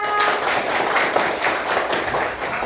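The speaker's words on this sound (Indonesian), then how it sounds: "Tepuk tangan." Grade 4B schoolchildren clap their hands together in a classroom, a dense, fairly loud burst of steady rhythmic claps lasting a few seconds with no talk over it.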